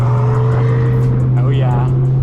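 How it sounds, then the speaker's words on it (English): Lotus sports car driving past on an Orange County street, a loud close engine note with a steady low drone that holds throughout the short pass, a voice talking over it. "Here comes the Lotus, a little bit quieter."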